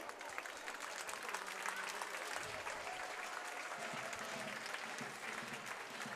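A street crowd at the Sardinian carnival parade in Largo delle Grazie, Oristano, applauds as masked figures enter, a continuous, dense patter of clapping at moderate distance with faint crowd murmur underneath.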